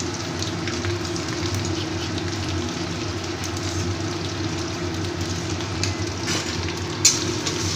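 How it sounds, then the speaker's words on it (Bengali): Sliced onions mixed with chili powder and green chili paste fry in a pan for a doi katla fish curry, producing a steady, close crackling sizzle that hardly varies, with one small clink near the end. "আমার এই পেঁয়াজটা ভালো করে ভাজা হয়ে গেছে"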